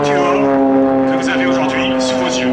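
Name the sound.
aerobatic propeller planes, Extra 300 and MXS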